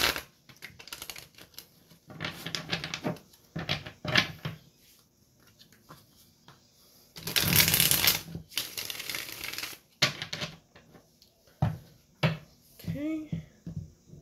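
A deck of tarot cards is shuffled in quick, riffling bursts with short pauses between them, fairly close and moderately loud, with faint voice sounds near the end.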